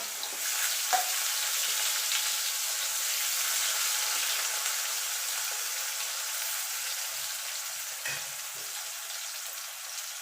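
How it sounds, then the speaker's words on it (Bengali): Potato pieces frying in hot oil for a Bengali mourola fish tel jhal until reddish, giving a steady, even sizzle throughout with a couple of faint clinks and no talking. "তো আলুটাকে লাল লাল করে ভেজে নেব।"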